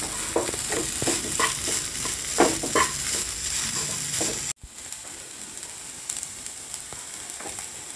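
Soaked poha being stirred with sugar in a pan for a sweet breakfast pulao: a sizzling hiss with irregular scraping strokes, loud at first, then dropping abruptly to a quieter sizzle with scattered scrapes.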